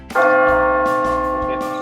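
A bell at a Thai temple fair is struck once, ringing out loud and close with a bright metallic tone that sustains and slowly fades.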